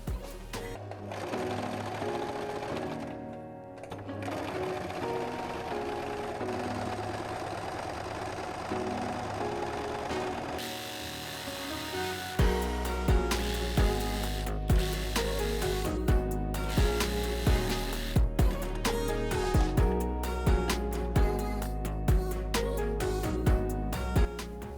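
Domestic sewing machine stitching stretchy fabric for a ghost costume, with tension turned down, a steady whirring motor that picks up into a faster, louder run with rhythmic needle pulses, close and alone.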